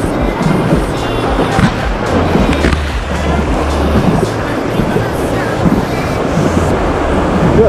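The Ayung River in Bali rushes during rafting, a loud, dense, continuous roar of churning water with wind buffeting the microphone and low rumbling throughout.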